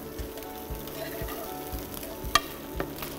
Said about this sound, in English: The beetroots are stewed and pan seared in the same butter what we added now.